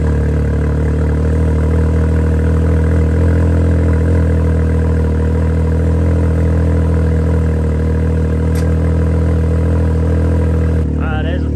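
A Can-Am Maverick X3 side-by-side with a race exhaust runs steadily at idle, a loud, continuous low engine drone held throughout with no talk over it.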